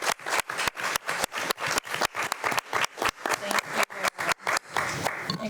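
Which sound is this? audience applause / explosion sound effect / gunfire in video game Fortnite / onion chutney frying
audience applause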